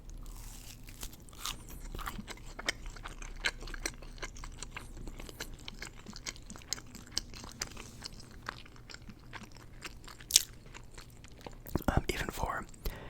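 Close, quiet crunchy bites and chewing of Wendy's French toast, with many small crisp clicks and mouth sounds over a faint background, and a louder burst of rustling near the end; whispered talk occasionally.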